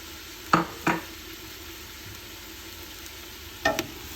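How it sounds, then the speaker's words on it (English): A spoon scrapes and clatters three times against a pan while chopped orange and yellow peppers with Maggi seasoning are stirred, with a faint steady background hiss between the short knocks. "You just want to give that a mix in the Maggi seasoning"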